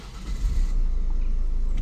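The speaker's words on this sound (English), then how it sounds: "Start the engine." A Ford Mondeo engine with a soot-laden particulate filter fault starts up: a low rumble builds quickly and settles into a steady idle close by.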